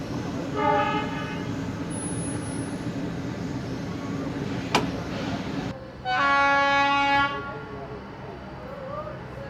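A diesel-hauled Mannargudi–Jodhpur express arrives with a rumbling engine and two long horn blasts, the second louder and nearer, over a constant low hum.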